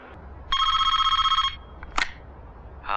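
A telephone rings with one loud, close, trilling electronic ring burst, followed by a brief click and the start of a second ring, with no talking.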